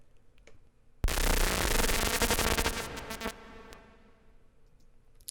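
A sudden blast of harsh, crackling distortion from the Berserk Distortion plugin bursts in loud and dense, stutters into choppy fragments, then cuts out, leaving faint ticking behind.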